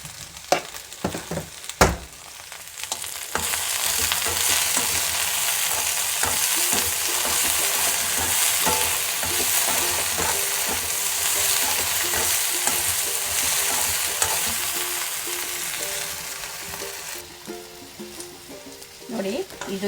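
Okra for sambar fries in a pan with a loud, steady hiss of oil, opening with a few sharp clatters and scrapes from stirring before the sizzle settles in and fades near the end.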